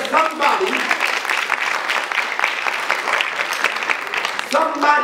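Audience at a high school conference applauding, a steady wash of clapping lasting several seconds, with a speaker's voice heard briefly at the start and again at the end.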